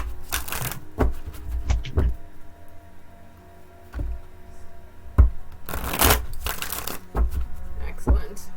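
Tarot cards for a zodiac reading are shuffled in repeated crisp riffling bursts with quieter pauses between, close by, and faint talk is heard now and then.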